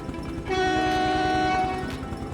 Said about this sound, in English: It is very long train.